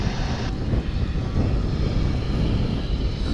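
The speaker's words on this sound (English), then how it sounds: "Take a long distance shot here of a Delta flight 378 coming in from LaGuardia in New York. It's an Airbus A220." A Delta Airbus A220 airliner comes in to land at Dallas/Fort Worth International Airport, its engines giving a loud, steady roar and rumble with wind noise over it and no talking.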